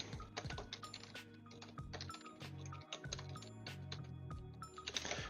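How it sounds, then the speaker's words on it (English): Computer keyboard typing in quick irregular bursts of clicks over steady background music, fairly close and moderately loud, with no talk. "Off screen, I am typing."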